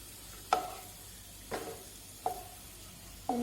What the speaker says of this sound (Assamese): পিঁয়াজৰ পাতটো এফাল ধুনীয়াকৈ ভজা গৈছে।